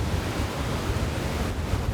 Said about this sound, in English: I've got little waves on the moat.